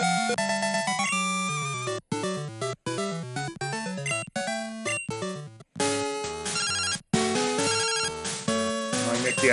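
In Pokémon Gold, the in-game phone rings as a fast, bright chiptune trill that repeats in short bursts with brief gaps, loud and steady across the whole stretch.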